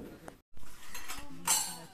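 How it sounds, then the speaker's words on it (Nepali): Dishes and pots being washed in a village home, with light metallic clinks and clatters scattered over two seconds at moderate distance, fairly quiet with room noise. "साथीहरू यहाँनिर चाहिँ ऊ बहिनीले भाँडा धुँदैछ"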